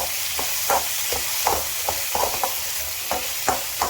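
Chillies, turkey berries, coconut, garlic, tamarind and salt sauté in a pan with a steady sizzle, broken by repeated spatula scrapes at an irregular rhythm, close and moderately loud, with no talking.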